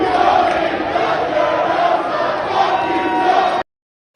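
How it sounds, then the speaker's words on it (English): Wrestling crowd at a GCW event chanting in unison, a loud, dense, sustained roar of voices that runs steadily and then cuts off abruptly. "The crowd chanting."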